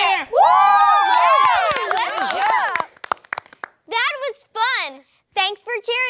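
Children cheer and shout together at the close of an alphabet cheer song, with clapping under loud, bright voices, followed by a few short sung or spoken phrases after a brief pause.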